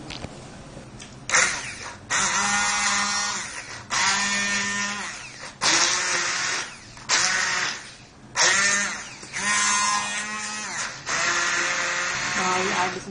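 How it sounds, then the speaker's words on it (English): A kitchen blender pulses cooked carrots into a fine paste in loud, whirring bursts of one to two seconds, each broken by a brief pause, with several bursts repeating close by. "Now I am going to blend this to a fine paste."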